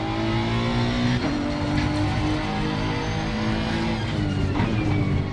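A Honda NSX EVO GT3 race car at Kyalami in Assetto Corsa Competizione, its engine loud and close, revving through steady gear changes with rising and falling pitch.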